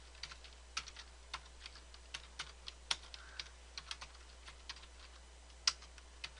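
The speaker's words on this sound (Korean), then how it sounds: "텍스트 입력하기 위해서 클릭해 주시고 대소문자 구분해가면서 입력합니다." Keystrokes on a computer keyboard while text is entered in Photoshop, mixed upper and lower case, come as quiet irregular clicks with a steady low hum beneath and no talking.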